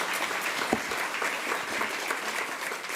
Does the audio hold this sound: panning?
no